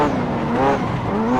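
A Ferrari F40 engine revving hard during a rear-wheel-drive drift practice run, a loud, steady, close engine roar with a wavering pitch and no talking.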